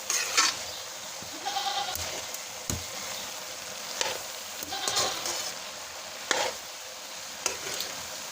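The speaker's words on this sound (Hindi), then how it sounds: "अब इसकी हम भुनाई करेंगे अच्छे से।" Turnip greens bhujiya roasting in a pan with a soft, steady sizzle, broken by sharp clatters of a spoon scraping and stirring at irregular intervals, close by with no talk.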